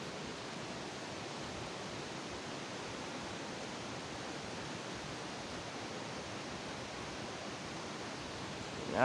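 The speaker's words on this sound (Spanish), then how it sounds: "por ahí discurre el río Xanes, también conocido como río Viescas" The Xanes river flows far below a gorge in Asturias, a steady, even rush of water that stays at the same level throughout.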